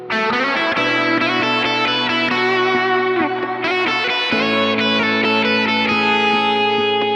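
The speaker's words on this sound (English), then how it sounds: "So back to that reverby sound." Sustained electric guitar chords through a Kemper amp ring out drenched in spacious reverb, each change blooming and trailing into a long wash of echo.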